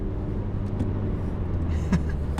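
A Mini Cooper S F56 with an OEM+ exhaust rumbles at close range, a deep, steady exhaust drone with a brief sharper pop or burble near the end.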